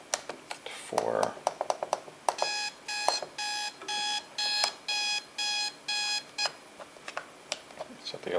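A Spartus Sigma III model 1029 alarm clock sounds its alarm as a loud electronic beeping in a steady pulsed pattern of about eight even bursts, preceded and followed by button clicks and handling taps.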